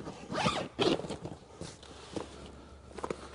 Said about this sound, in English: Zip everything down.